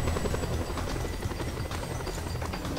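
Helicopter in the video game Just Cause 2, a steady, loud rotor drone with dense chopping texture running unbroken throughout, close and dominant with no talk over it.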